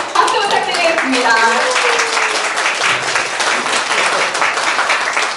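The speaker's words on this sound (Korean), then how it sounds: "네, 박수 부탁드리겠습니다." A book concert audience claps warmly after a cake shaped like a book cover is cut, giving dense, steady applause close by, with a few voices mingling in at the start.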